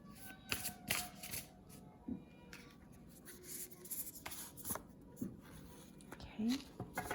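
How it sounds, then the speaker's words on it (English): Tarot cards shuffled and one drawn for a pick-a-card reading, soft papery riffles and flicks coming in scattered bursts, with a faint whispery voice in the background. "So I'm going to pull one card from here."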